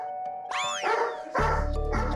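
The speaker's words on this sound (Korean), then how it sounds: "코앞까지 다가와 짖기 시작하는데요" A dog barks and yips right up close at film crew hiding inside a home, starting with a rising whine and then breaking into loud, rapid barks near the mic, with no talk.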